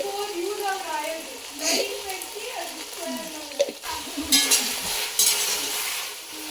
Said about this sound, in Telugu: చికెన్ వేసేస్తున్నావా? జాగ్రత్త, స్లోగా వేయి